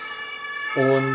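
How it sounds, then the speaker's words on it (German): An ambulance siren sounds in the background of a quiet room, a steady wailing tone that swells louder in the final half second. A man briefly starts to speak. "man hört im Hintergrund vielleicht den Krankenwagen,"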